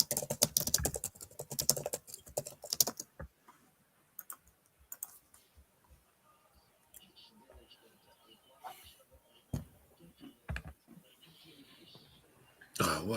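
A computer keyboard clatters in quick, busy bursts of typing up close, then thins to scattered single clicks. A cough and some faint vocal sounds come in between.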